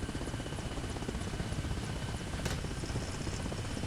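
A Mil-8 helicopter setting down in the game Arma Reforger, a loud continuous rotor and engine drone with fast rotor chop throughout.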